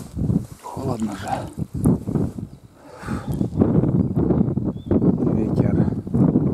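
Strong, cold wind by the Nivshera river buffets the microphone in heavy, gusting rumbles that rise and fall throughout, with a voice faintly mixed in.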